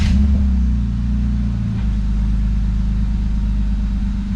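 A BMW M3 engine fires up right after an ECU reflash and settles into a steady, loud low rumble at idle, heard close up with no talking.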